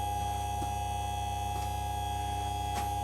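A Forte STZ 106 chain sharpening machine, fitted with a saw chain, runs with a steady electric motor hum and a constant tonal whine, with a few faint ticks over about three seconds.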